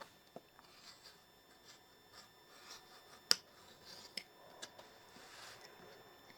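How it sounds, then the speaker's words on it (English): Scissors snip through fabric while cutting out butterfly wing pieces for a sewn oven mitt, giving quiet, scattered clips and rustles with a few sharper snips standing out against a soft background. "now I can just go ahead and cut around"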